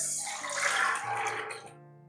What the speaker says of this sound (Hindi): पानी भी साथ डालेंगे